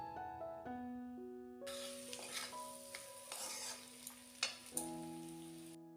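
Potatoes frying with spices in a pan, a steady broadband sizzle with scraping stirs, under a sustained tonal music bed throughout.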